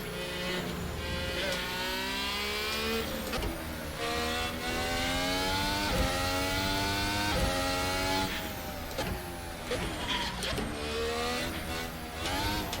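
A race car engine in the Assetto Corsa driving simulator, played on a triple-screen motion rig, revs loudly and continuously. It climbs and drops through repeated gear changes, with hard braking and occasional tire squeal, and no talking.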